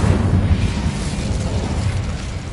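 Fiery Incendio spell blast in Hogwarts Legacy, a dense, loud roaring burst of low rumble sustained for a couple of seconds with no voices.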